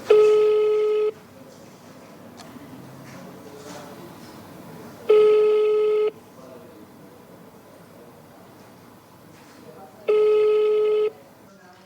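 A phone call to the Sicilian highway consortium's number rings unanswered, three long electronic ring tones spaced about five seconds apart with quiet background between them.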